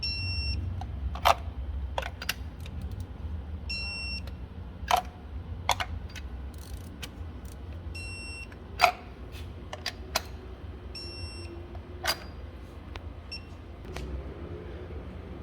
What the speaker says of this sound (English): Alright, so we've got our torque wrench.